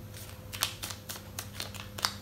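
A sheet of paper being folded in half for an origami double-sided ninja star, heard as close, quick crinkles and soft creasing rustles in several short bursts.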